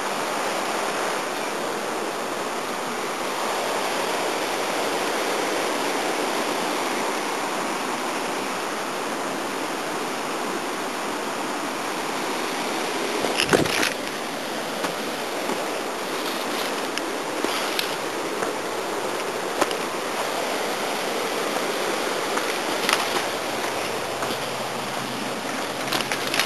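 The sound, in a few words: river flowing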